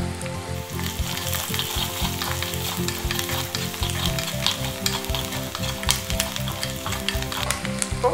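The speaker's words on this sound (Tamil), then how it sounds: "இப்போ நான் இதில் கொஞ்சம் கருவேப்பிலை சேர்த்துக்கிறேன்" Curry leaves sizzle and crackle in hot oil in a pan for garlic kuzhambu (poondu kuzhambu) alongside onion and garlic, a continuous close frying hiss with scattered sharp pops and stirring scrapes, with no voices.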